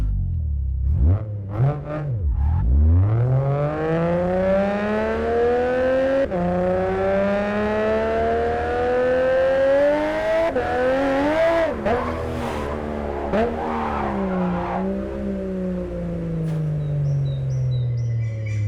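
A Nissan Skyline R34 GT-R engine in the video game JDM Japanese Drift Master revs up and climbs through its range with a rising, throaty whine, shifting and dipping before settling into a steady drone. Loud and continuous.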